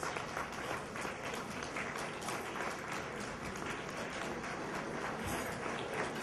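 A gala audience claps steadily and densely, many hands at once filling the room at an even level from start to finish, with no voices standing out.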